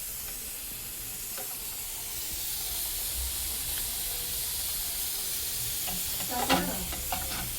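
Chopped tomatoes fry in a hot pan for paneer bhurji, with a steady sizzle and hiss and a few louder crackles and stirring scrapes toward the end, no one speaking.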